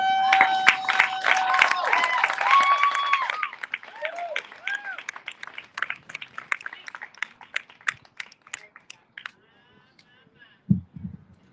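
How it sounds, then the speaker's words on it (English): An open-mic poetry audience on a patio applauds a poet with scattered clapping and cheering voices at first, then dwindling to sparse, isolated claps with some talk and a bump near the end. "Everyone give a second round of applause for Janice."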